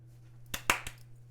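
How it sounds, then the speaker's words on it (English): Three quick hand claps at close range, coming irregularly over a steady low hum, with no talk. "3 claps, I suppose"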